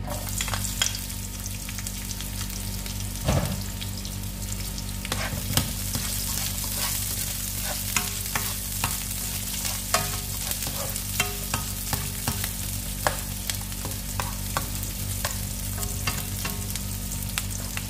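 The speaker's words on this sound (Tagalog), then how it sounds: "Maglagay lang tayo ng kunting mantika. Saka ilagay na natin ang onion." Onion frying in hot oil in a pan for adobong kangkong gives a loud, continuous sizzle with frequent sharp clicks and scrapes of stirring, with no talk.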